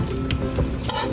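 A spoon stirs a simmering coconut-milk eel stew with green chili in a pot, giving a short burst of scraping and gentle bubbling that stands alone without talk.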